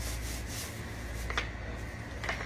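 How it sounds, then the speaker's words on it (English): A rolling pin rolls biscuit dough on a silicone mat, giving a soft, continuous rubbing sound with a couple of faint scraping accents over a few seconds. "Get our rolling pin. Never realized that was a silicone mat on the outside of that."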